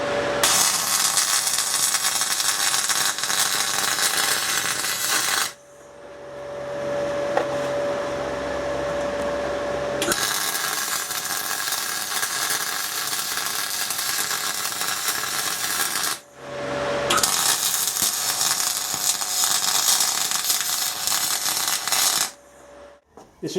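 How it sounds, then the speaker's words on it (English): Aluminium MIG welding of a bracket onto alloy plate with an R-Tech MIG 180 spool gun gives a loud steady crackling hiss in three long runs, each lasting several seconds with brief pauses between. "I'm going to weld that bracket on and then do some practical weld testing on it."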